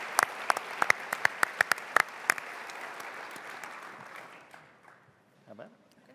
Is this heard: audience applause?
yes